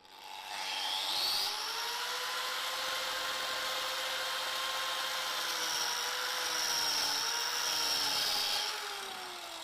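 A 4-inch carving disc on an angle grinder scallops timber with a steady, loud whine and rasping cut that runs for several seconds, shifting pitch slightly as the angle changes, with no talk over it.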